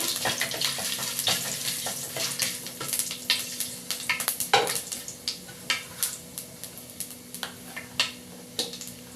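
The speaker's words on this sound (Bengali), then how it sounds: "এর সঙ্গে দিয়ে দেবো দুটো তেজপাতা দিয়ে একটু ভালো করে নেড়ে নিতে হবে" Bay leaves stirred through hot oil in a pan for a vegetable curry, giving a steady close sizzle with scraping spoon strokes and light clinks throughout, alone without speech.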